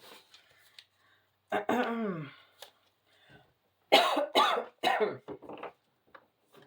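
Several close coughs and throat-clearing bursts come in short clusters, separated by quiet gaps and soft breathing.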